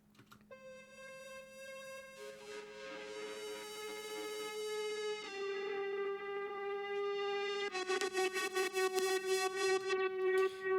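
A soft, airy ghost whistle synth preset glides through sustained whistling notes, shifting pitch in steps before ending in a fluttering, pulsing passage.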